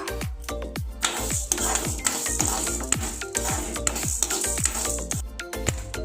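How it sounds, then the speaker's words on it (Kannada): Urad dal dry-roasting in a pan for chutney powder, stirred with a steady run of sharp scraping and rattling strokes, loud and close, with no voices. "ಸ್ವಲ್ಪ ಕಲರ್ ಚೇಂಜ್ ಆಗೋವರೆಗೂ ಹುರಿತಾ ಇರಬೇಕಿದ್ದು"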